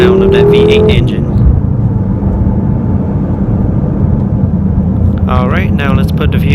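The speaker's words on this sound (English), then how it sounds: "Love the sound of that V8 engine." A 2015 BMW M6 Gran Coupe with a twin-turbo V8 drives under hard acceleration, a loud sustained engine roar with a rising pitch sweep that then settles into a steady drone, with a voice briefly talking near the end.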